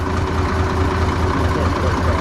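A Cat D6B bulldozer's D333 diesel engine at low idle, a steady, even, low rumble close by that continues without change.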